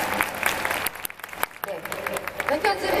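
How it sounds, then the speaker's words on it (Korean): Audience applause for actress Seo Hee-soo at a Busan International Film Festival open talk for the film Highway Family. A roomful of clapping swells and dips over about three seconds, with voices talking through it. "우리 서희수 배우님께 박수 한 번만"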